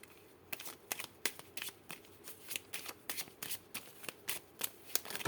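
Lenormand oracle cards being shuffled by hand, a quick series of crisp riffling flicks in uneven bursts, close and fairly quiet with no talking.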